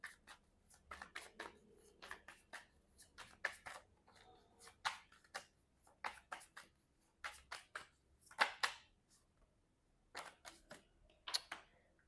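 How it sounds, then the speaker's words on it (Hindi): Tarot cards being shuffled by hand: quiet, crisp riffling snaps come in irregular bursts, close up and soft in an otherwise silent room. "ओके, शफल करते हुए एक कार्ड निकल के आया है।"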